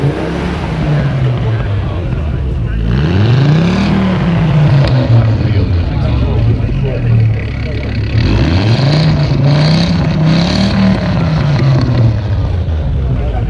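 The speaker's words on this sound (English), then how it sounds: "You can just hear that turbo whistling all the way down the exhaust" A five-cylinder turbocharged car engine at a British classic car show rises and falls through repeated loud revs close by, with a rough grumbling idle between them.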